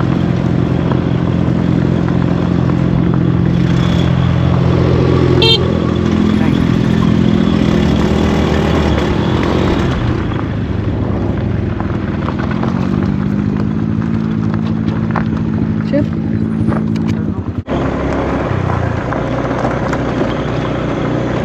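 A rented scooter ridden along a road in Laos toward a lagoon, its small engine giving a loud, close, continuous drone that shifts pitch with speed, mixed with wind rumble and a brief clunk near the end.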